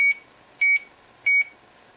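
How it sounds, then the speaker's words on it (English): Three short, high electronic beeps from a Parallax Propeller microcontroller, each a quick double pulse, repeat at an even pace, clear and close with nothing else around. "the first tone will be a beep."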